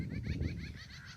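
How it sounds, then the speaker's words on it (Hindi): A small bird chirps from somewhere overhead outdoors, a quick series of short bright calls repeating over a low background murmur. "ये ऊपर चिड़िया बोल रही है, चहचहा रही है,"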